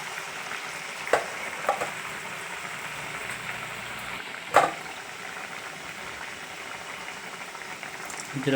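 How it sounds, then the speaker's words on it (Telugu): Wheat flour appams frying in a pan of hot oil, a steady bubbling sizzle held at an even level with a few sharp crackles and pops standing out, no voices. "ఇలా అప్పాల్లాగా చేసుకుని వేడి నూనెలో వేయించుకోవాలి."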